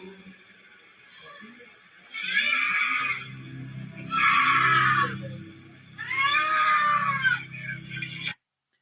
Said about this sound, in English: That's someone yelling, help